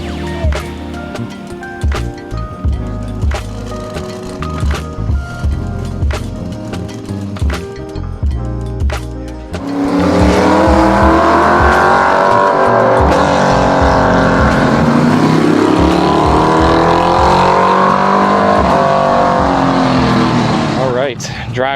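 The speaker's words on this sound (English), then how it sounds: "these incredible classic TransAM cars are fired up and ready to go" Classic TransAM race cars on a track, first with people talking over idling engines, then a loud sustained roar of several engines revving and accelerating together.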